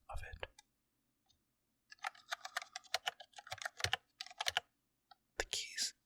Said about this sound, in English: One of the things I love about this keyboard is that the keys feel very soft